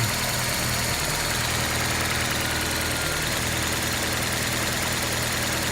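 A warmed-up 1995 Geo Prizm engine idles steadily with a low, even pulsing hum and a faint hiss layered on top, continuous and close throughout.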